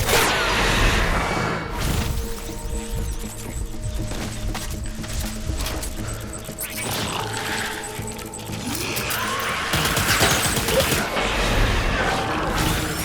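Gunfire in Death Stranding Director's Cut, scattered shots and bursts mixed with whooshes and metallic clatter, loud at the start and again near the end.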